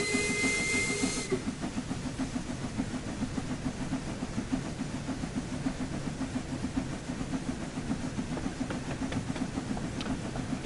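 A steam locomotive in Train Sim World 2 hisses steadily as its regulator is opened, a continuous loud rushing hiss with a faint rhythmic chuffing pulse underneath and a brief whistle-like tone at the start, no talk.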